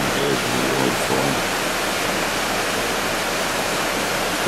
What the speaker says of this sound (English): And the water's really raging.